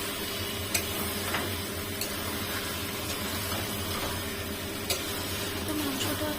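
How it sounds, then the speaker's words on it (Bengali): Chicken curry meat is stirred and fried in a pan, giving a steady, moderate sizzle with faint scraping and a few sharp spoon clicks against the metal, no talking. "মাংসটা দিয়ে ভালো করে কষাতে থাকবো যতক্ষণ না মাংসটা কষে যাচ্ছে।"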